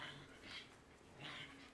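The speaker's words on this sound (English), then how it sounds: "I'm hearing some spooky growls from the roll of walls right now." Low, breathy creature growls and whimpering snarls in the horror game Condemned: Criminal Origins, two rough swells in a quiet, eerie space, fairly faint and distant.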